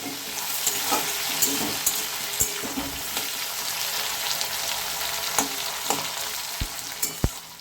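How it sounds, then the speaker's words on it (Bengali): Drumsticks, the moringa pods, are stirred in a frying pan, giving a continuous close sizzle with scraping spatula strokes and a few sharp knocks near the end. Nobody speaks. "এখন আমি সজনে ডাঁটাগুলো এর মধ্যে দিয়ে দিলাম আর এইবার একটু নেড়ে চেড়ে দিচ্ছি"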